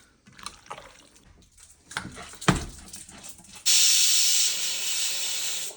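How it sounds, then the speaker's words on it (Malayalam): While cooking wild boar masala, some clattering and splashing give way to a loud steady hiss of escaping steam from a pressure cooker that continues. "കുക്കറിൽ ഒറ്റ ഫിസിൽ മതി"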